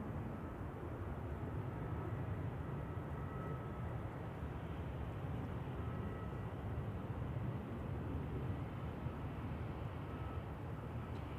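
An airliner on the glide slope approaching Manchester Airport gives a steady, distant jet roar that holds evenly from start to finish, with no talk over it.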